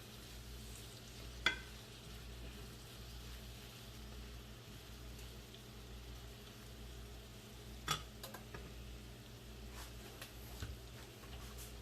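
Onion and meatball ingredients sizzle steadily in a pot on the stove, a soft continuous frying hiss under a low hum, with a couple of brief clinks of a utensil against the pot.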